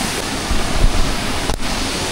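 A waterfall pours down from above in a rural upland setting, a loud, steady broadband rush with no voices, broken only by a brief dip and a thump midway.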